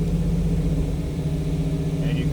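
A 2002 Chevrolet Camaro SS 35th Edition convertible with its LS1 5.7-liter V8 idling steadily up close, a low, even rumble with a faint voice over it.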